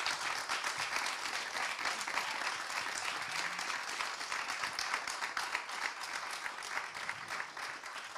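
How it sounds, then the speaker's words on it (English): An audience applauds speakers at the end of a panel discussion on sustainable transport at COP26, a dense, steady roar of many hands clapping that holds close and loud throughout. "Can we get a massive round of applause for our speakers,"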